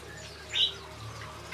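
A bar-winged prinia in an aviary gives one brief, high chirp that stands out over a quiet, steady background hum.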